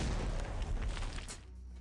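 A near explosion effect from the Shadow Era video game, a dense booming burst that rumbles for over a second before fading into a low tail.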